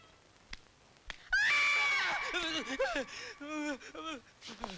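A doorbell gives a shrill, wavering scream-like electronic tone that rises suddenly and holds loud for a few seconds, warbling like a woman's cry, with fainter knocks before it.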